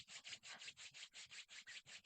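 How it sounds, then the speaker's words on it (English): Palms rub briskly together during a qigong practice, a steady swishing friction in about eleven even back-and-forth strokes, close and clear with no talking. "you can slowly open your eyes and rub your hands together"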